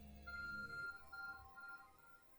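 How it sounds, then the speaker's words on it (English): Short electronic beeps from a phone in the video game Pokemon Legends, a steady bright repeating tone over a low game hum, moderately loud and alone. "Your phone is beeping."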